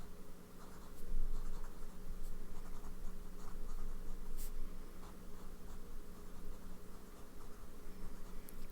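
Pen nib scratching steadily across Tomoe River paper with Diamine Seize the Night ink, a close, soft continuous scritch with small stroke accents over a low steady background hum.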